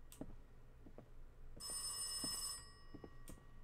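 A telephone rings in a quiet room: soft knocks and shuffling, then one long electronic ring tone for about a second before the quiet returns.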